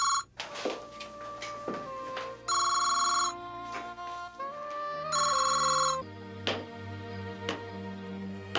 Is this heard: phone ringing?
yes